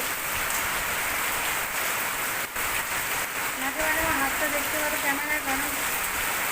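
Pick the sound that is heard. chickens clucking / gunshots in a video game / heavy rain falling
heavy rain falling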